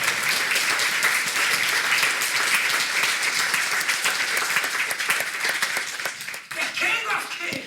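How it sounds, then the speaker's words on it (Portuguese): Loud, sustained applause from a church congregation, dense clapping and some cheering that fills the room, then thins and trails off near the end. "Você pode aplaudi-lo?"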